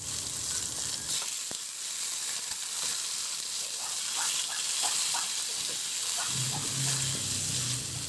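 Marinated pork chops frying in a pan, a loud steady sizzle with a few clinks and scrapes, and a brief voice near the end.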